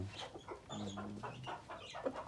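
A tall rooster gives soft, short clucks in a quiet farmyard, faint and close by.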